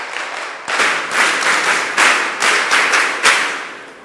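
Audience of women applauding to welcome a speaker to a mentorship session, a loud, close burst of clapping that swells in repeated waves with sharp individual claps standing out.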